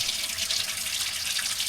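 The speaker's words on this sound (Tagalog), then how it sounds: "Padaanan ko na lang ng mainit na tubig." Hot water runs steadily from a tap into a clogged kitchen sink drain, a continuous close hiss and splash with no voices.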